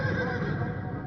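A horse of the President's Bodyguard neighs at India's Republic Day parade, one loud, close whinny filling the short moment.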